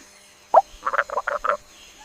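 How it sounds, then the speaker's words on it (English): A frog croaks close by: one sharp call followed by a quick run of four or five throaty, rhythmic croaks against a quiet background. "Frog jumps and croaks."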